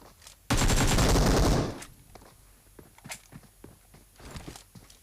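Automatic gunfire in the mobile battle royale game PUBG, a loud sustained burst lasting about a second, followed by quieter scattered shots and footsteps-like clicks.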